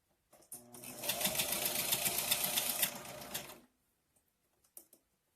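A sewing machine stitches a DIY shirt in one steady, fast run of about three seconds, loud and close, then stops, leaving a few faint clicks and handling sounds.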